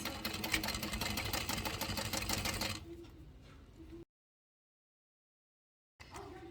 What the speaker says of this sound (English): I will be back stitching neatly instead of tying my threads.